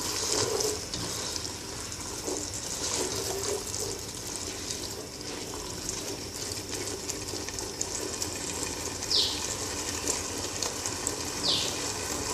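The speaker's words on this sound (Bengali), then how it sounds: "নেড়ে দেব।" Chickpea curry (chola bhuna) with blended spices being stirred in a pan, a continuous close sizzle and scraping hiss with occasional small spatters, steady and unbroken throughout.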